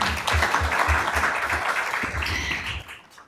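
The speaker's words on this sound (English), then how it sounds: "you're getting a round of applause" A council meeting audience applauds the captain with a steady round of clapping, heard somewhat muffled over a remote connection and tapering off at the end, with a faint voice underneath.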